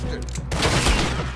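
Dense, loud gunfire from the video game Red Dead Redemption 2 crackles in a continuous roar with overlapping shots and a heavy low-end rumble.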